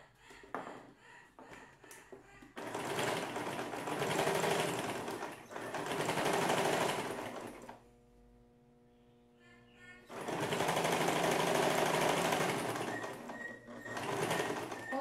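Sewing machine stitching open bias binding right side to right side onto a ready-made fabric placemat, running in two long loud bursts with a brief pause and short stop-start runs at the beginning and end.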